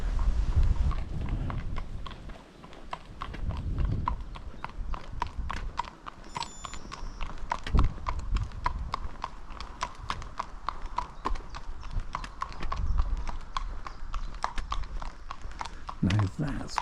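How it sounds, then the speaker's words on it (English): Steady clip-clop of horse hooves on a hard surface along the Jurassic Coast, a continuous rhythmic patter throughout, mixed with outdoor rumble and some voices. "I can hear clip clopping behind me, so I suspect there's some horses coming."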